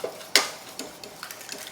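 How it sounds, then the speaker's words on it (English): A whisk beats cracked eggs in a bowl for a flourless chocolate torte, starting with one sharp clank and then going on as light, quick ticks and taps, close and fairly quiet, with no voices. "you crack and I'll whisk"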